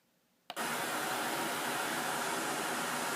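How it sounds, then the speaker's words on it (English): After a short click, broadband pink noise test signal from a Behringer X32 digital mixer starts abruptly and continues as a steady, loud, even hiss. "it's now generating pink noise"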